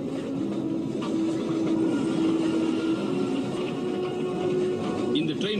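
A cartoon train runs steadily along rails, a continuous rumbling roll with faint clicking and a drawn-out tonal whine, loud and close throughout.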